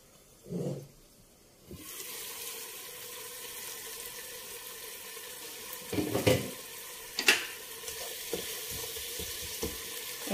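Onions soften in a pan with a little water over low heat, giving a steady, even sizzle and hiss, broken by a few louder clatters of stirring against the pan, with no talking.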